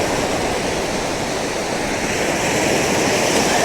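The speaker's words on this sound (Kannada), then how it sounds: "ಅಲೆಗಳು ಯೂಶುವಲ್ಗಿಂತ ಜೋರಾಗಿ ಬರ್ತಾ ಇದೆ." Sea waves crash on the shore at Mangalore, rougher than usual, giving a steady loud broadband roar of surf close by, with no distinct individual breaks and no voices.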